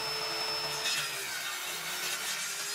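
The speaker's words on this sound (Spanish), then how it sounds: "Terminamos con la sierra de banco." Table saw ripping through a piece of reclaimed wood to square and clean an edge, a steady continuous cutting whir with a bright rasping hiss and no pauses.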